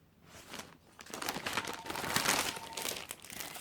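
A crinkly plastic pack of stickers gets handled up close, with soft rustling and crinkling that builds and continues in irregular bursts, fairly quiet, and no voices.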